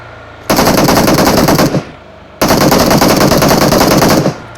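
Gunfire in the mobile battle-royale game PUBG Mobile: two long, loud bursts of rapid automatic fire, the first running about a second and a half, then a short pause before a second sustained burst of similar length.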